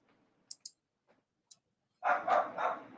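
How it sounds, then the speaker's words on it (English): A dog barks three times in quick succession at close range, preceded by a few faint clicks and ticks in an otherwise quiet room. "This dog won't stop barking."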